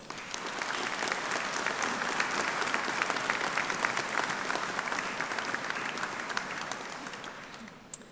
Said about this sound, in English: I think we should also give them a round of applause.